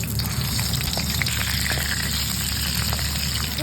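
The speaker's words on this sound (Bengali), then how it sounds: "প্রথমে গ্যাসে কড়াই বসিয়ে আমি তেল দিচ্ছি। তেলটা গরম হয়ে গেছে, এবার মাছের মাথাগুলো আমি ভেজে নেব।" Fish heads fry in hot oil in a wok over a gas flame, a dense, steady sizzle and crackle with scattered pops throughout.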